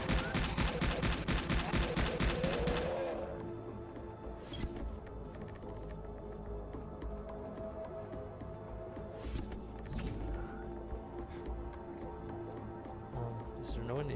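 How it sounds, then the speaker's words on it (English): Rapid bursts of automatic gunfire and grenade blasts in the underground sci-fi survival game Subterrain, dense at first and then giving way to scattered mechanical creaks and distant shots; a voice talks over part of it. "They're grenades. I've got grenades too."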